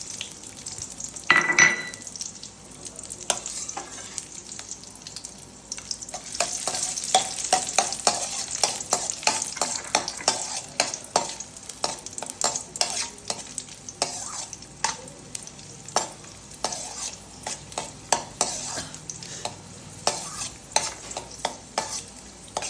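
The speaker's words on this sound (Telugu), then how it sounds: "ఇప్పుడు నెయ్యి వేస్తున్నానండి" Rice and dry fruits frying in ghee in a pan for sweet pongal, a steady sizzle broken by the frequent scrape and tap of a stirring spoon, close and continuous with no talking.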